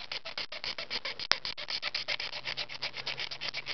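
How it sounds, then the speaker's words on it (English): Sandpaper rubbed by hand over a shoulder armor piece, a quick rhythmic back-and-forth scratching in close, even strokes with one sharp tick partway through, with no voices. "which I might have to do with sandpaper."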